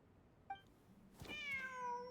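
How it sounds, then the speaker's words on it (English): A cat meows in Genshin Impact during a desert ruins exploration. It gives one clear, drawn-out meow that rises and then falls, preceded by a faint short chirp, with nobody talking. "Oh, the cat."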